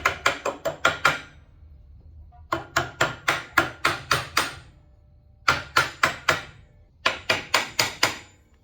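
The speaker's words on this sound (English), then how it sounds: "they just sit here on the end and just kind of tap into place" Axle spindle dust covers are tapped into place with sharp, close metallic hits in four quick groups of five or six strikes each, separated by short silent gaps.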